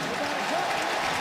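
A stadium crowd at a Raiders football game against the 49ers gives off a steady, broad roar of cheering and applause, with commentary speech partly audible.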